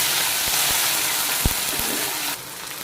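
Tomatoes cook in a hot pan with a loud, steady hiss and sizzle, broken by a few soft knocks and clinks, and the sizzle changes abruptly near the end.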